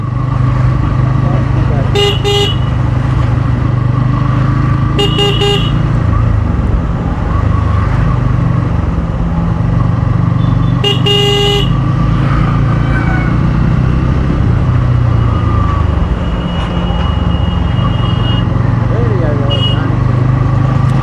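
Pulsar N160 motorcycle riding through road traffic while overtaking, its engine droning steadily and loudly throughout. Several short car-horn toots sound in the surrounding traffic, and a rider's voice talks over the engine noise.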